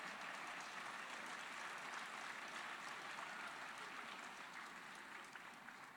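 Audience applause fills a full house at a film festival screening introduction, a continuous wash of many hands clapping at a fairly distant, even level from start to finish.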